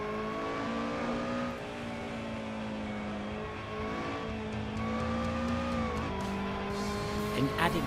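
A Lotus Elise races a BMW Z4 in the Assetto Corsa driving game. Engines drone and rise through the gears, their pitch climbing and dropping with shifts, and a brief tyre squeal comes near the end.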